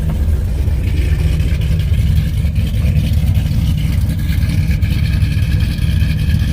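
A supercharged, cammed Ram truck rumbles through a new MBRP catback exhaust, its loud, throbbing engine note running steadily throughout without talk.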